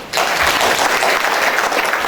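Audience applause at a book launch ceremony honouring Pahlad Ramsurrun, a dense, loud burst of many hands clapping that starts abruptly and carries on steadily for two seconds.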